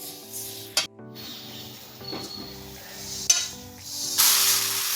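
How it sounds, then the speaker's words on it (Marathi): Coriander seeds are dry-roasted in a pan for homemade masala, with a few sharp scraping stirs and a soft, intermittent sizzle over a steady background hum, ending in a brief hissy rustle. "आता धने आपले बऱ्यापैकी भाजले गेलेत."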